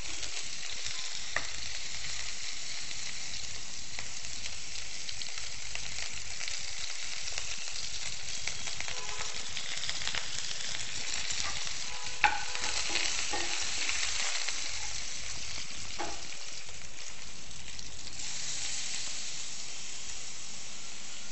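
Mustard seeds, urad dal, curry leaves and green chillies fry in hot oil for carrot rice, a steady dense sizzle with occasional sharp pops and crackles and faint stirring underneath.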